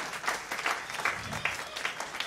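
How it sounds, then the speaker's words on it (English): A crowd applauding, dense clapping that is steady and moderately loud throughout the short stretch. "that's cue for applause."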